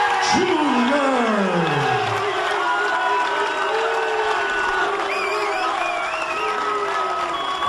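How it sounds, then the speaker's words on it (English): Boxing arena crowd after a fight, with sustained applause, cheering and chanting of the winner's name filling the whole stretch, loud and continuous. "So his name is chanted and the applause continues"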